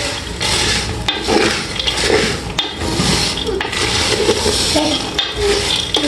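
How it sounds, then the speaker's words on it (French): Peanuts roast in a pot while being stirred continuously, a dense rattling scrape with small knocks against the metal, close and steady throughout. "lorsque vous le grillez, vous devez toujours être à côté de la marmite pour tourner continuellement"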